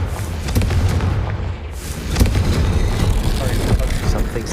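A Confringo spell exploding in a magic video game: a loud, dense rumbling boom with crackling debris that swells and sustains, with a second surge partway through, close and heavy.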